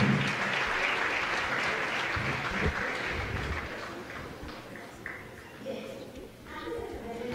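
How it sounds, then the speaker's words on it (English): An audience at a Lasallian education congress applauds panel experts, with full, dense clapping that gradually thins and fades, while voices start to come through near the end. "Please, let's give them a big applause."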